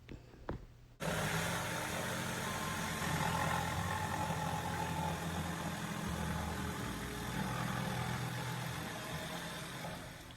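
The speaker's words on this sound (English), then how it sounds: "I'm going to take my jigsaw and cut along that edge" Jigsaw cutting along the edge of a new wooden furniture top, starting abruptly after a second of quiet and then buzzing continuously and loudly at close range.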